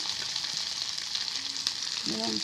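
Ginger with coriander leaves frying in a pan, a continuous close sizzle with soft hiss and a brief tonal sound near the end, no talking.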